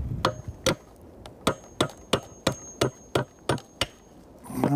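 Sharp, evenly spaced hammer blows striking nails into wood, about a dozen in a steady rhythm, close and clear, followed by a brief rustle.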